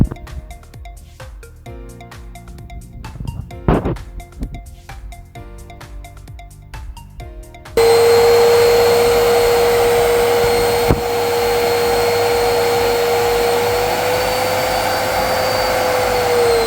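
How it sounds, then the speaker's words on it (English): A repaired Miele vacuum cleaner switches on partway through, joining faint background noise with a sudden loud, steady whine and roaring airflow that holds constant for the remaining seconds, with no talking. "Now it's working properly, and the air suction power is also very high."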